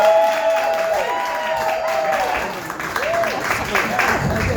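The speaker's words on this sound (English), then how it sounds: "Put your hands together for Shawn." Comedy club crowd in Hell's Kitchen applauding a stand-up comic taking the stage, a loud sustained burst of clapping and cheers, with rising whistles and a voice over the top.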